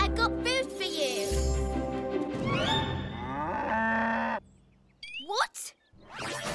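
A cartoon cow moos loudly in a Thomas & Friends children's show, a long tonal moo over background music, followed by brief voice and sound effects.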